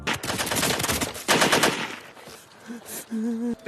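Rapid bursts of automatic gunfire in a tense film scene of troops shooting blindly in panic, loud close rattling volleys that cut off after about two seconds, followed by a brief tonal whine.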